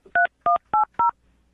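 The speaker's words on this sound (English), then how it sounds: "I'm going to dial the phone right now." Four loud, clean touch-tone beeps from a telephone keypad being dialed, evenly spaced and close, ending in silence.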